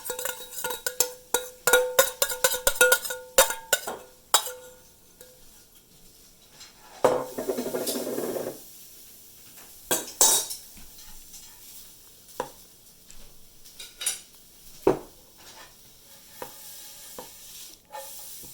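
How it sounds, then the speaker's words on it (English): A spoon stirs pancake batter in a bowl, giving a run of rapid scraping and clinking strokes, then a pause and scattered further knocks and stirs, fairly close and with no talking. "I'm just going to keep mixing this up"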